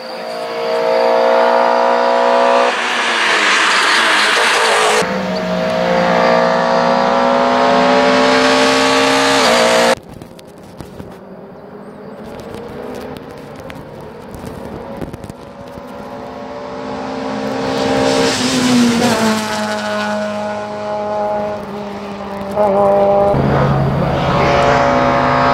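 Race car from the Walter Motorsport team launching up the Rechberg hillclimb course, its loud engine revving hard through several gear changes, pitch climbing and falling as it accelerates past and away.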